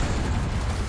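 A bomb explosion in the video game Gungrave G.O.R.E, a loud, dense, roaring burst filling the whole clip with no gap or decay.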